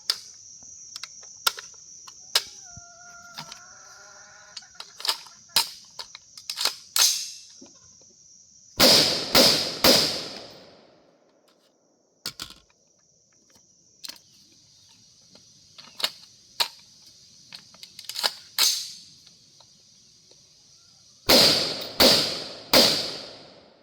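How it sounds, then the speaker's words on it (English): A cheap AR-15 rifle firing, with sharp, ringing reports scattered singly and in fast clusters of two or three, the rapid strings loudest, with quiet gaps between. "We're going to try it rapid fire, see if the bolt stays back."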